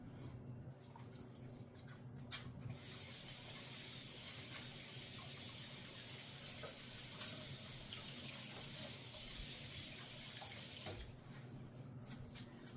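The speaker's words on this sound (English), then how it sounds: "I'm gonna wash my hands really quick" Water from a tap runs steadily into a sink as hands are washed in a home kitchen, a continuous close splashing hiss with a few brief clinks.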